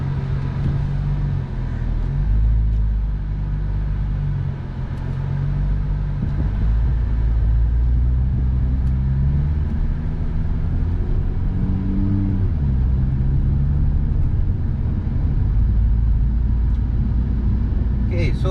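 Nissan R35 GT-R driving on the road, a steady low engine drone and road rumble throughout with engine pitch shifting up and down as it accelerates, and a voice talking over it at times.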